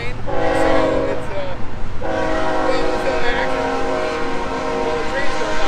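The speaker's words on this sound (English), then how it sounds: "the train's going on" A train passes near a motorsport event, its loud sustained horn sounding over a steady rail rumble while someone talks nearby.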